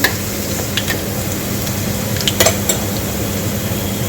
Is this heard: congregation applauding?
no